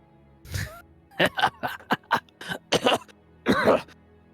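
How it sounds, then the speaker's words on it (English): A man coughs several times in a rough, hacking series, with short breaths between the coughs, close and fairly loud. "Coughs before he walks through."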